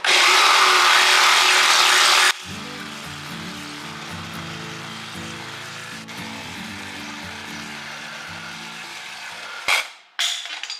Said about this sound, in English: It's still pretty hot right now, but it's the Sawzall blade's making progress.